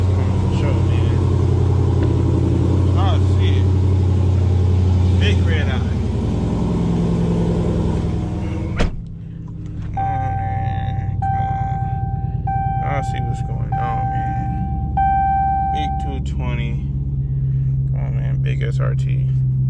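A Dodge Challenger Hellcat Redeye with no muffler delete, engine and exhaust rumbling at a low, steady drone while driving, with a sharp click partway through and someone talking over it in the latter half.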